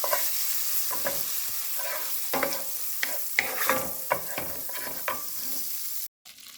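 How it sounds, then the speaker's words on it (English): Margarine melts and sizzles in a preheated pot, a gentle, continuous frying hiss punctuated by frequent clicks and scrapes of a utensil against the pot, ending abruptly. "So I preheat my pot, guys, and I'm using some margarine. So we're just going to let that melt"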